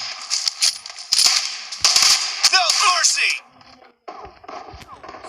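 Gunfire in the mobile shooter PUBG Mobile Lite: a burst of sharp, close shots and clattering impacts in the first few seconds, tapering to quieter, sparse reports toward the end.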